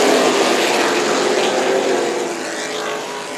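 Super late model race cars roar together on a restart at Tucson Speedway, a loud, sustained engine howl up close that eases slightly toward the end, with no talking over it.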